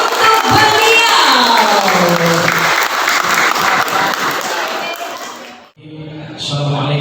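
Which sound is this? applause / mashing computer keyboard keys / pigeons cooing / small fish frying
applause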